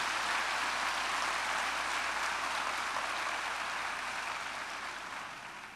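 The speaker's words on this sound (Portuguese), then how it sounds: "Pode aplaudir o Senhor." A church congregation applauds together in a dense, continuous wash of clapping that holds steady and then begins to fade toward the end.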